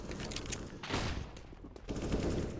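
AK rifle gunfire during a competitive video game match, quick distant bursts of shots in two clusters separated by a short lull, fairly faint.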